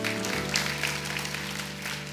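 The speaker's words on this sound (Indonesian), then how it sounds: "Kasih tepuk tangan untuk Tuhan" Church congregation applauding for God during a sermon: a steady wash of clapping throughout, with a low sustained musical drone or organ tone underneath.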